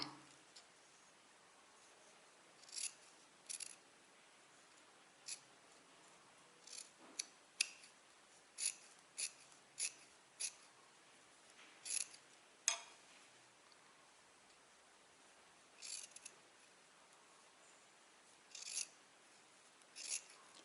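Scissors trim fabric close to the edge along a curved shirt hem, giving a sparse series of crisp, close snips separated by pauses in an otherwise quiet room.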